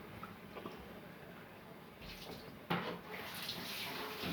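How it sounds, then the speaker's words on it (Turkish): Tap water runs into cooking pots in a home kitchen, a steady rushing stream that grows fuller and louder as a pot fills, with a brief clatter partway through. "Ve suyunu da doldurayım."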